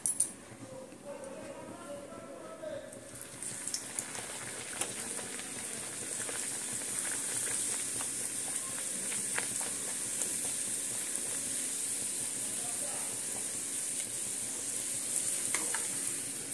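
Dal puri frying in hot oil, puffing up round, a continuous loud hiss and crackle of sizzling oil that builds after a few seconds and carries on steadily, close up, with a voice talking over it.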